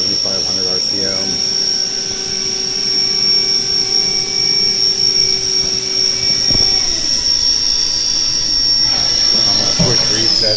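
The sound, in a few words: CNC machine spindle running at 7,500 RPM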